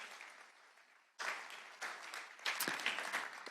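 Audience applause at a round-table conference, a soft, distant patter of many hands that swells in bursts and continues steadily, with no talk over it.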